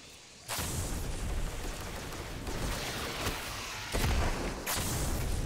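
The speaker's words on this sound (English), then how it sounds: "That was a reasonably placed grenade" A grenade blast in the shooter Destiny 2 sets off a sudden loud burst, followed by dense rumbling combat noise, with a second sharp surge of explosive sound near the end.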